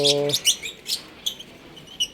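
Lovebirds in an aviary give short, bright chirps scattered in quick, irregular bursts at close range, over a faint background hiss, with a brief low tonal call at the start.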